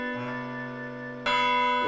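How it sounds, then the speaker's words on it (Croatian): A town clock bell in a cartoon rings with a sustained, tonal chime that holds steady, then swells into a louder, brighter second strike partway through, with no voices. "Ne, to je gradski sat."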